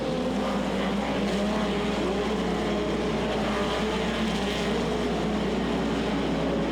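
Midget race cars roar around a track in a steady, continuous wall of engine noise, loud and unbroken with no voices over it.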